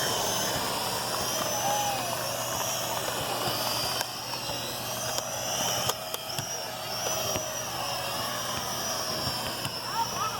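A Venom Pro GPS drone flies in a park, its rotors giving a steady high whine with shifting pitch at moderate distance, broken by a few sharp clicks and knocks; a person can be heard speaking at times.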